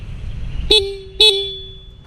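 Two short, loud honks from a Honda Click 160 scooter horn, close by, each a bright steady tone with a lingering ring after it, over faint background rumble.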